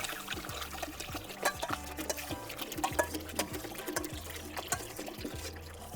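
Water pouring and trickling into a cooking pot in a kitchen, a continuous liquid stream with small splashes and clinks, with a rhythmic background pattern and no talk.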